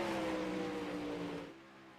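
Race cars from a Monday Night Madness dirt-track program idle and rumble at the start-finish line after a heat race, a steady engine drone with a low tonal hum that drops away toward the end, with no talk over it.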